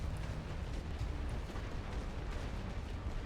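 Artillery barrage in the video game The Great War: Western Front, a dense continuous rumble of overlapping distant explosions and booms, low and heavy throughout.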